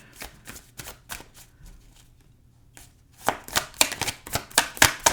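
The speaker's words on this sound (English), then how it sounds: "it just means I need to shuffle a little bit better" Tarot cards riffled and shuffled by hand in quick repeated bursts of crisp flicking, quieter at first, pausing briefly, then louder and closer in a rapid run of riffles.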